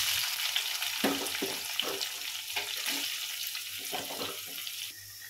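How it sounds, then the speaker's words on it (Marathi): Chopped onion sizzles in hot oil with a cumin and chili tempering over a high gas flame, a steady hiss with scraping stirs at intervals, close and fairly quiet, with no voices. "आणि अतिशय फास्ट गॅसवरती कांदा फ्राय करायचा आहे आपल्याला"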